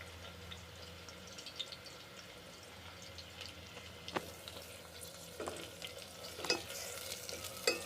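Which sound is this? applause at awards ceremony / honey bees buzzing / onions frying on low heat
onions frying on low heat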